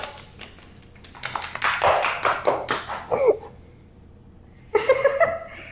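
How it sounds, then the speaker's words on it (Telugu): A few people at home clap their hands in loose, uneven bursts, close and fairly loud, pausing in the middle and then starting again, with soft breathing and light laughter in between. "చప్పట్లమ్మా చప్పట్లు"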